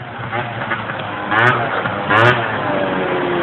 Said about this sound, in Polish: Jakieś auto jedzie.